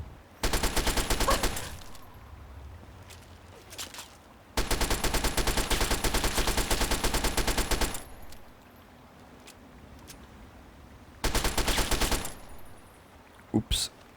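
Gunfire from the video game Fallout 3 comes in three long sustained bursts of rapid automatic fire, loud and close, with quieter gaps between them and a few isolated clicks near the end.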